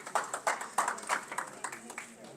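Sparse, soft clapping from a small audience after a talk on Social Security planning, a handful of quick claps in an uneven rhythm that fades within a couple of seconds.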